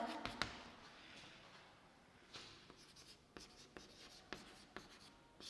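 Chalk or a marker writes on a board during a maths lesson, making a quiet scratchy stroke followed by a few short, sharp taps and scrapes at close range.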